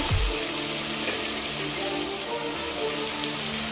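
Tomato rice ingredients fry in a pan with a steady, dense sizzle and crackle, close and even, with no one talking over it.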